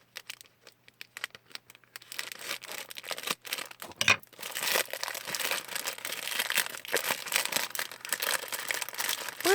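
An advent calendar box being opened by hand, close crinkling and tearing of paper or cardboard in irregular bursts, sparse at first and then dense and continuous, with no talk.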